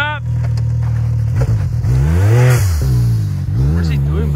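A Can-Am X3 or Polaris RZR side-by-side revs in the snow, its engine climbing and falling in repeated pitch sweeps. The sound is loud and close, and voices can be heard over it.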